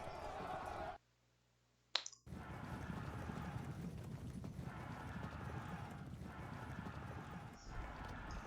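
Light horse cavalry hooves in the Pike and Shot strategy game, a steady clip-clop of many hooves under a continuous bed of noise, broken by a brief drop to near silence.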